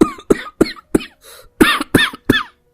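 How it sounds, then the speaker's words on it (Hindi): A run of harsh, raspy coughs in quick succession, close and loud, with short pauses between bursts and a brief strained breath in the middle. "कब से खांस रहे हैं"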